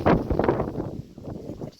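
Wind buffets an outdoor microphone in uneven rumbling gusts, strongest at the start and easing slightly, with no clear voice over it.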